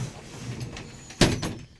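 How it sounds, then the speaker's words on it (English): A truck cab door swings shut with one solid, close thump and a short rattle. A quieter knock follows, then the cab goes still. "Close my door in the closed position."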